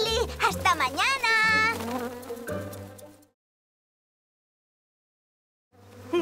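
Cartoon bees from the animated series Maya the Bee buzz loudly in a warbling, wavering drone for about three seconds, then stop into silence before a faint sound returns at the end.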